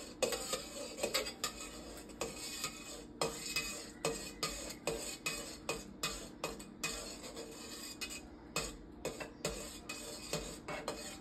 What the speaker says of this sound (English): you're gonna stir for about 15 seconds